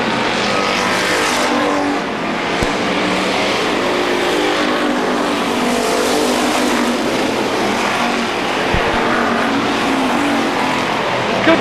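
Stock race cars of the ACT Dodge Tour lapping Star Speedway: a loud, continuous roar of several engines at full throttle, swelling and shifting as the pack sweeps through the turns.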